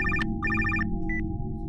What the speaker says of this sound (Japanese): 今電話鳴って取ったと思うんだけど。